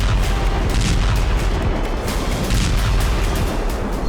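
Dense, continuous low rumble of war explosions and distant gunfire from the Russia–Ukraine conflict, heavy booms rolling together without pause across the whole stretch and no voices.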